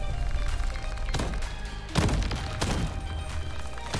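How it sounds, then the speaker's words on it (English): Rapid gunfire from an auto shotgun in the roguelike video game Crab Champions, a dense string of punchy thuds and crunchy blasts with a couple of louder bursts near the middle, alone without talk. "I love auto shotguns."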